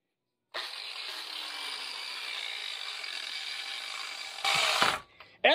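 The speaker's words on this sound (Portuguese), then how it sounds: "Tô usando o disco côncavo de 12 centímetros na esmerilhadeira" An angle grinder fitted with a 12 cm concave disc shapes wood for a rustic spice rack, holding a loud, steady abrasive whine for several seconds before a harsher surge and a sudden cut-off.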